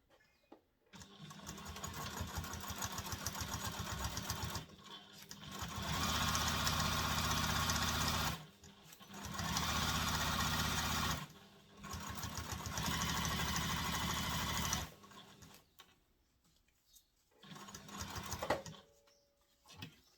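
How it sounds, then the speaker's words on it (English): A sewing machine runs in four long bursts of steady stitching with brief pauses between, sewing a zipper seam on a fabric diaper bag with a zipper foot and back stitching; close and loud, with no talk. "And then sewing with the seam allowance stated in the pattern."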